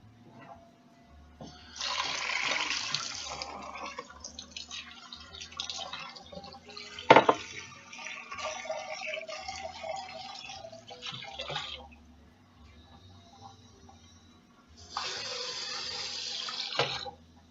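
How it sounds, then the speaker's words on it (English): Cold tap water running to soak fresh rosemary in a kitchen: a faucet streams in two bursts, the first long and splashy, a brief clunk midway, then a second shorter run, close and fairly loud. "Just gonna soak it in some cold water"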